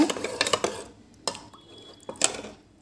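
Tender coconut sherbet is stirred in a bowl, with a few quick clinks and liquid sloshes at first, then two more separate clinking strokes and quiet pauses between them.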